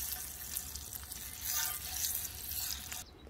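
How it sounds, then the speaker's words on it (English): Meat searing in hot duck fat on a lid used as a pan, a steady close hiss and sizzle with light crackle throughout, cutting off abruptly at the end. "We're now going to just sear the outside as much as we can."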